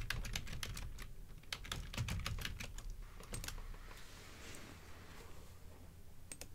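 Quick bursts of clicking keys on a computer keyboard as a search is typed, irregular taps close by and fairly quiet, thinning out toward the end; no talking.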